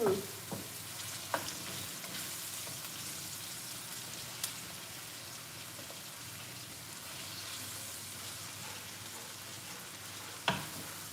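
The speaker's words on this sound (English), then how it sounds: "So I'm just going to wait until our onions are golden" Onions fry in a pan on the way to golden, a soft, steady sizzle like light rain with occasional faint stirring taps, close but quiet and with no talking.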